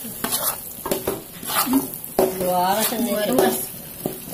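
Spices and salt sautéing in a pan for Makassar-style sop konro soup, with a spoon stirring and scraping against the pan in steady strokes under a soft sizzle, clatter of cookware close by.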